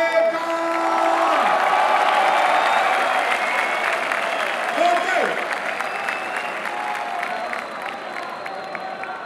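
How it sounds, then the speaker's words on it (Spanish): A live crowd at a Red Bull Batalla de los Gallos freestyle rap battle semifinal applauds and cheers loudly, a dense wash of clapping that slowly thins over nine seconds, with a voice calling out briefly over it. "Un fuerte aplauso para Shea."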